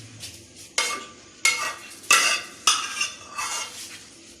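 A utensil stirring fried chillies and tomatoes into potato samosa filling in a metal pan, several sharp clanks and scrapes at uneven intervals over a faint sizzle, close and with no talking.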